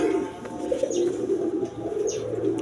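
Satin pigeons at a Bangladeshi pigeon sale murmur in a low, continuous cooing, with faint chirps and a brief flutter of wings close by.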